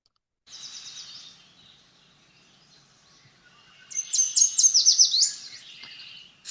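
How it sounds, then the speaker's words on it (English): Two bursts of yellow warbler song in mid-May along a ridge: a short, softer sweet trill first, then a louder, brighter run of quick sweet notes after a pause. "it's full of yellow warblers in mid-May. So let's listen to the song."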